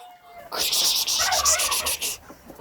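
A bad-tempered turkey hen in a farmyard shared with ducks and hens gobbles in a loud, rapid, rattling burst lasting nearly two seconds, close by.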